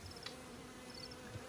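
Honeybees buzzing faintly while feeding on a supplement outdoors after rain, a quiet continuous hum with a couple of brief louder passes close by.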